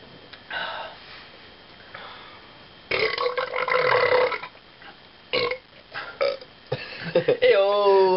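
A loud, drawn-out burp after drinking canned beer, heard up close amid sniffs, snorts and people talking and laughing.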